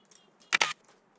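Scissors cutting paper for a paper flower basket make a quick pair of crisp snips close by, with faint light rustles around them in an otherwise quiet room.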